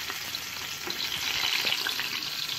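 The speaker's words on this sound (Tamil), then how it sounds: "இன்னொரு வெங்காயத்தை வந்து நாங்கள் வெட்டி வச்சு ஸ்லைஸாக வெட்டி வச்சதை ஃப்ரை பண்ணணும்." Sliced onions fry in plenty of oil for mutton biryani, giving a loud, close, steady crackling sizzle with light stirring and no voices.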